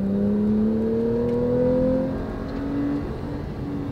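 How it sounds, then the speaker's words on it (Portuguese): A Porsche 911 accelerates hard on a track straight, its engine note climbing steadily in pitch with strong harmonics, loud and close from inside the car with no talking. "Vocês vão ver que o carro puxa muito aqui."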